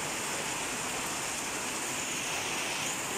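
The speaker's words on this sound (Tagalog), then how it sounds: "Malakas. Malakas ng ulan." Heavy typhoon rain pours down in a dense, unbroken hiss, steady and loud, with no voices over it.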